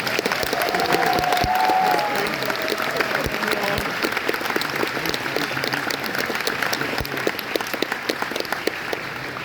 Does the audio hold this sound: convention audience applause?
yes